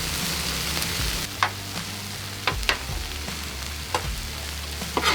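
Bell pepper, white onion and carrots sizzle steadily on a 36-inch Blackstone griddle, with a dense frying hiss throughout and a few sharp clicks and scrapes of utensils stirring the vegetables.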